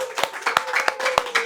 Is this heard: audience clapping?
yes